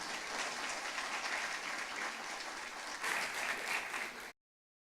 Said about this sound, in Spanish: Lo recibimos con un aplauso, por favor.